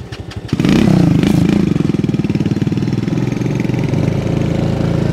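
A smashed-up motorcycle engine starts and keeps running, loud and close, settling into a rapid, rough, pulsing idle with no talking over it.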